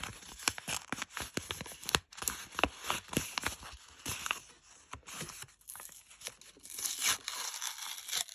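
Close crinkling and tearing of a paper packet, in short irregular rips and rustles with brief pauses between them.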